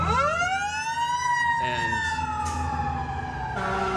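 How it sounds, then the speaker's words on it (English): Emergency vehicle sirens wail past on a street beside a bridge construction zone, a loud rising and falling tone sweeping through, with a single spoken word over traffic noise. "They're sending sirens. The emergency crews are heading up,"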